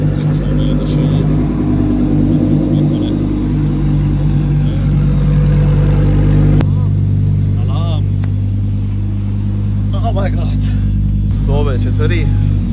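A performance car's engine rumbles loudly and close with a steady, heavy drone that swells briefly midway, while people talk over it.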